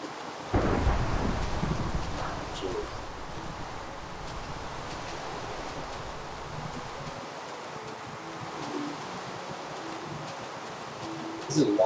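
Thunder from lightning strikes in the Minecraft video game, with a loud crack and rumble near the start and then a steady wash of rain and wind under it, plus a second sharp burst at the end.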